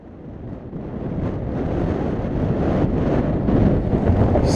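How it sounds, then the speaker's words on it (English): Gusty wind rumbles against the microphone, building steadily louder over a few seconds, with no voices. "So windy."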